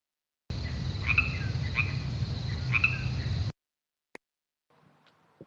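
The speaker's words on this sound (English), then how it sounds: "Thanks for the crickets." A short burst of cricket chirps over a soft hiss, three quick trills spaced about a second apart, then it cuts off abruptly.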